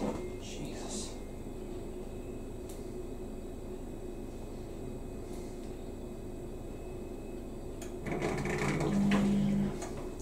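A washing machine running and filling its sump gives off a steady, low mechanical hum with faint whirring, then swells into a louder surge of churning noise near the end.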